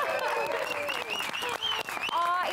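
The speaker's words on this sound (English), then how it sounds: "Can we give Ilana another hand of applause?" Applause for a 77-year-old fitness instructor and artist, steady clapping heard beneath a talking voice that runs over it throughout.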